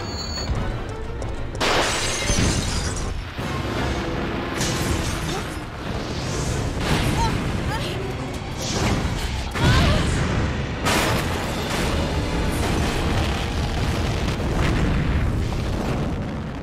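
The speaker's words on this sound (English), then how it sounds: "I feel like the damage would be greater than just like a small explosion like that" A gas station blows up in Resident Evil 3, opening with a sharp shattering burst followed by booming, crackling explosion noise and debris that rumbles on loudly for several seconds with repeated bursts.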